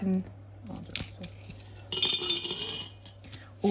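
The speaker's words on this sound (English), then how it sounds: "this change here is going into my penny savings challenge" Loose coins clink and rattle close by: a few sharp chinks, then a longer jangle of change being handled and poured.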